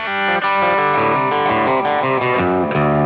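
An electric guitar with Hot Chicken pickups plays an overdriven, high-gain country tone, a steady run of loud, close distorted notes and chords changing every fraction of a second, with no voices over it.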